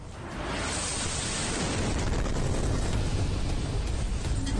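Aftermath of a blast near a foot overbridge in Kyiv's Shevchenko district: a loud, broad roaring wash of noise that swells in quickly and holds steady, with no distinct single bang.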